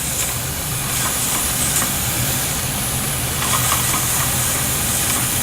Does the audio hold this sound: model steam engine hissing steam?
yes